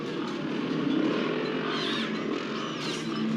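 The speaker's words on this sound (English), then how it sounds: "lights and engine noises suddenly surround the house" Motorcycle engines drone at a moderate distance around a house at sunset, a steady low rumble with a few rising revs passing by, no voices over it; a scene from The Lost Boys (1987).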